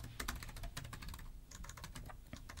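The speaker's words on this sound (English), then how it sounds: "Sorry, I'm terrible at typing." Rapid, uneven clatter of keys on a computer keyboard while building a web page in Divi, close and steady throughout with no talking.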